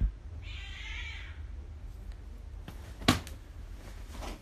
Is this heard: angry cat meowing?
yes